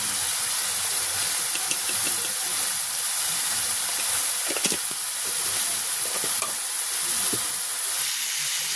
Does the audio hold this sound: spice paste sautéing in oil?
yes